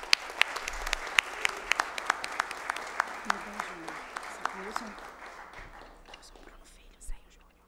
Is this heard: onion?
no